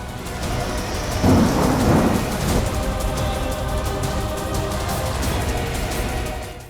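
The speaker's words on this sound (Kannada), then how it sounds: "ದಕ್ಷಿಣ ಕನ್ನಡ ಜಿಲ್ಲೆಯಾದ್ಯಂತ ಭಾರೀ ಮಳೆ ಸುರಿಯುತ್ತಿದೆ" Heavy rain pouring across Dakshina Kannada district, a loud steady downpour hiss with a deep rumble of thunder swelling early on, continuous and without talk.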